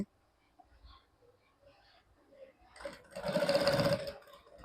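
A sewing machine runs a short burst of stitching along folded fabric, whirring loudly and close for about a second after faint handling noises, then stops.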